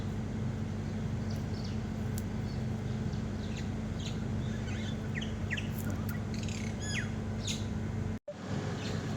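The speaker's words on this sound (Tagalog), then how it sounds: "Marami talagang iba't ibang klase ng ibon dito" Assorted wild birds chirping outdoors, scattered short tweets and calls over a steady low background hum, with a brief dropout near the end.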